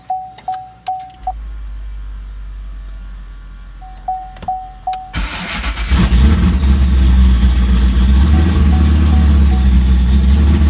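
Car engine catching after a few short cranking bursts, then settling into a loud, steady running roar with a deep low rumble from an open exhaust, heard up close with no talk.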